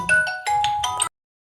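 A short electronic ringtone plays a few quick chiming notes, then cuts off abruptly into silence.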